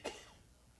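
A single short, faint cough, quick and isolated, followed by near silence.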